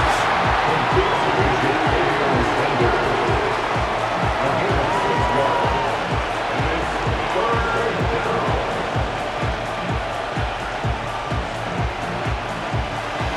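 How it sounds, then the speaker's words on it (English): A video-game stadium crowd in Madden NFL 25 roars steadily as a broad, loud wash of cheering noise, with a regular low thumping pulse running underneath throughout. "This crowd into it now as we get to 3rd down."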